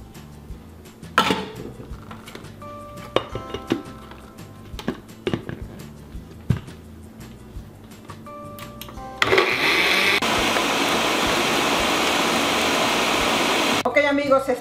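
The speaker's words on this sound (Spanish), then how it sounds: "Entonces voy a licuar todo esto" Kitchen clatter and tapping give way to a loud, steady blender whirring for several seconds, blending a rum cocktail with pineapple, lime, coconut and honey, before cutting off.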